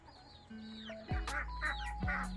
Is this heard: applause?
no